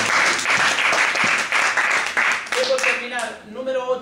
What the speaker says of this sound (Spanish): Dense un aplauso, por favor.